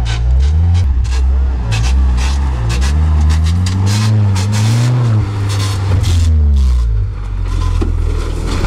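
A prepared off-road Chevrolet Niva with a lift kit and locking differentials runs at full throttle at a steppe off-road competition, its engine droning loud and rising and falling as it strains, with voices talking over it.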